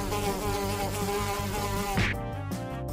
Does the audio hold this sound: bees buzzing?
yes